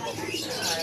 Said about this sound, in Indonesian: Ini teman-teman ada burung perkutut.